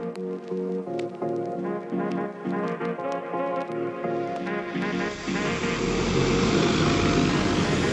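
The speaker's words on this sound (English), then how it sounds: "So that's the drone back from its flight mission." A UAV drone taking off for a flight mission: after a quieter musical stretch, its rotors spin up into a loud, steady broadband whir that dominates the final seconds.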